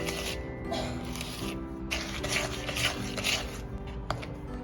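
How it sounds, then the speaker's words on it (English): A spatula scraping the sides of a mixing bowl of strawberry crinkle cookie dough, repeated close rubbing and scraping strokes against the bowl with faint clinks, steady and moderately quiet. "Using a spatula, scrape the sides."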